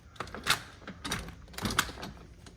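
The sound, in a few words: sticking patio door being opened and locked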